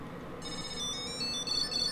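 A Tile Generation 2 Bluetooth tracker rings with a bright, repeating electronic chime that starts just under half a second in and keeps going fairly loud and close, with no talking over it.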